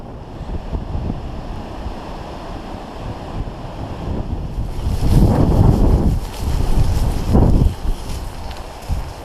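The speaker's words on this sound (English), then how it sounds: "thankfully, the breeze has dropped ever so slightly" Breeze gusting along the open gritstone edge at Froggatt Edge, rumbling steadily against the microphone and swelling into two louder buffeting gusts midway, with no voices.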